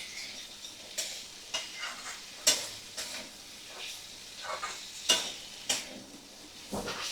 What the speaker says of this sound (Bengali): মিডিয়াম ফ্লেমে রেখেই রান্নাটা করছি আমি।